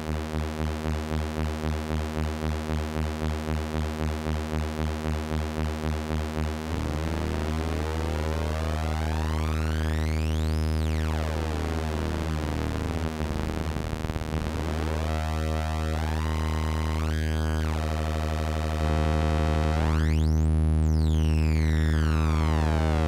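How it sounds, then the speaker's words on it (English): Synthesizer patch through a Mystic Circuits 0HP filter, its frequency input modulated at audio rate by a sawtooth VCO, giving a buzzy harmonic drone that morphs into sweeping, warbling chirps and metallic glides, loud and continuous. "Here the frequency input is being modulated by another sawtooth VCO."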